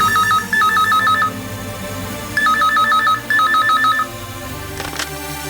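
Telephone rings with a warbling electronic trill in three repeated bursts separated by short pauses, loud and close, over low background sounds, as a call is placed home.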